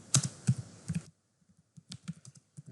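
Quick clicky keystrokes on a computer keyboard as code is typed, a fast burst followed by a brief pause and then more scattered taps, close and clear with no talking.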